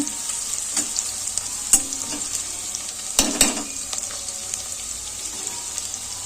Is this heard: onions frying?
yes